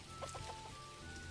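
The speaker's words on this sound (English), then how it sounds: "You petting my chicken?" Chicken clucking in a few short, soft bursts, fairly close, over a steady background hum.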